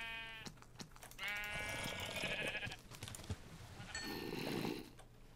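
Several Minecraft sheep bleat one after another, wavering nasal cries at close range over a low background hum.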